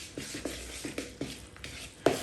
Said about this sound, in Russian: Хорошо сначала все перемешиваем ложкой.